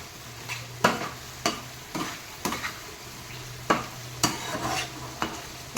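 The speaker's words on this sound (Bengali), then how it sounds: "একটু নেড়ে ফেড়ে নামিয়ে দেবো" Small fish curry being stirred in a pan, with a spoon scraping in a run of distinct irregular strokes over a soft sizzle of frying, close by and alone.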